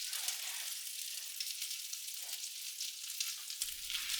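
Beef potato cutlets fry in a pan over medium-low heat, making a steady, fine sizzle with light crackles and spits, moderately quiet and continuous, with a faint low thump near the end and no talking.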